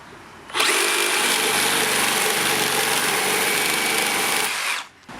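A Makita 40V second-generation cordless reciprocating saw cuts through 16 mm rebar without orbital action, giving a loud, steady, high-pitched metallic grinding whine that starts abruptly and holds for about four seconds before stopping.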